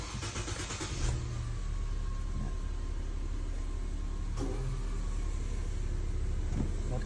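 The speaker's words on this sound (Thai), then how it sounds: "ตรงนี้เดี๋ยวเราลองสตาร์ทดูก่อนนะครับ" A gasoline car engine, one with a warning light and a stumbling fault, cranks and catches about a second in, then settles into a steady idle with a brief rev near the end, fairly quiet and heard alone.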